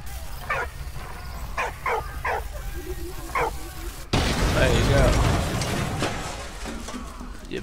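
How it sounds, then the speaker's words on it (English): A dog in the World War I video game Valiant Hearts gives several short yips and barks, then a loud burst of game noise takes over; someone talks over parts of it. "Wait, I give it to the dog. The dog takes it over to Freddy"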